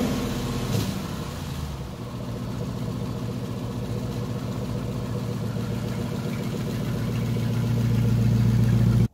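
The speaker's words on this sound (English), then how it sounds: "Here's a clip of what the car used to sound like." A Chrysler 300C Hemi V8 with a broken exhaust idles close by. A steady, throaty rumble with a rapid rhythmic pulsing carries on unbroken throughout, with no talk.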